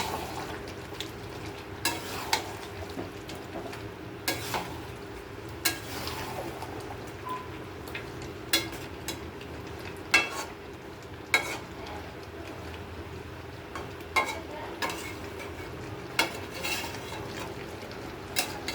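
Potatoes fry in a pan with a soft continuous sizzle, while a spatula scrapes and stirs them in regular strokes every second or two. The sound is close but fairly quiet, with no talking.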